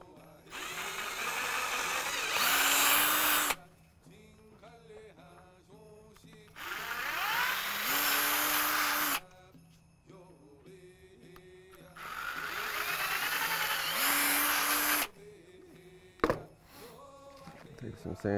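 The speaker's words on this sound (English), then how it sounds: "At that point, I'm ready to drill." A power drill bores into a wooden stickball stick in three loud bursts of a few seconds each, spinning up, grinding through the wood and stopping, with quiet handling and a sharp knock between bursts.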